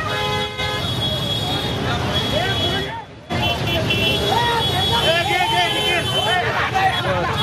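Car horns toot repeatedly in a traffic jam around Dandekar Bridge in Pune, several overlapping honks and short beeps over rumbling road traffic and crowd babble, with one brief dropout.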